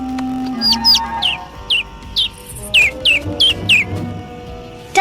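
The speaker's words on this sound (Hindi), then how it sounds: "ओह, एक नन्हा सा पंछी।" A small bird gives a run of high, thin chirps, about a dozen short peeps in uneven groups, close and clear over faint background sounds.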